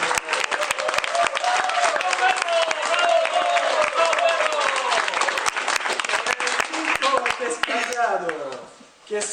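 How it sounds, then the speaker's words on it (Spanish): Festival audience at a community association party applauds a contestant, the clapping steady and dense throughout while a voice speaks over it. "Un aplauso para Pedrito."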